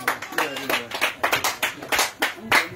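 A congregation at a testimony gathering after prayer services in Touba, Côte d'Ivoire, claps in quick, rhythmic, evenly spaced strokes, loud and close.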